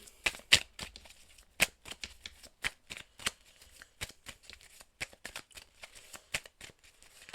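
Oracle cards are shuffled in a steady run of crisp, close riffling slaps and flicks with brief pauses between them, heard alone without talk.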